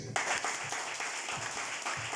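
A church congregation claps and applauds the Lord during a Sunday mission service, a short burst of rhythmic group clapping heard at moderate loudness from a distance.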